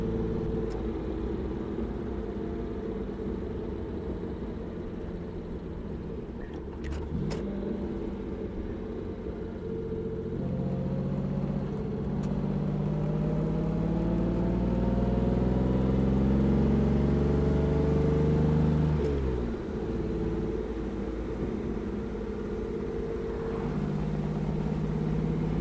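A 1963 Jaguar E-Type convertible with an inline-six and Moss gearbox drones steadily while driving, its pitch climbing through acceleration, dipping at a shift near the end, then rising again. The engine note is close and continuous.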